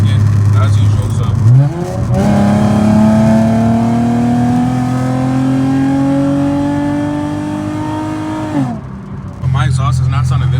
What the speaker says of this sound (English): I'm gonna just get some POV driving for y'all, so y'all can hear the exhaust real quick